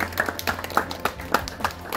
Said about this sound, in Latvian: Paldies jums un aplausus visiem dalībniekiem